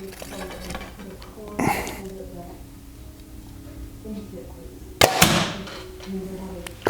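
A Bowtech Revolt XL compound bow looses an arrow with a sharp snap and thwack, followed a few seconds later by a second sharp impact, against an outdoor background with faint talking nearby.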